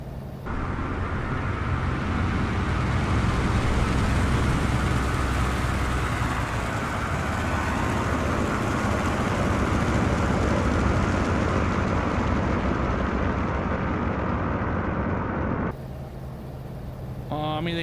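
A Skyraider propeller aircraft landing in a video game gives a loud, steady engine drone with broadband roar throughout, ending with an abrupt drop as the engine cuts back near the end.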